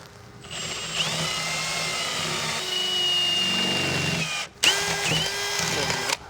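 An electric drill bores into metal while building a differential, whining steadily with a high grinding tone, pausing briefly before spinning up again, loud and close.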